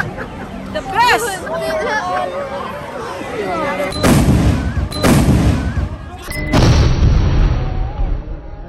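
Loud firecrackers explode in three big bursts, each followed by crackling, after a stretch of lively crowd chatter and voices; the blasts are close and overwhelm the background babble.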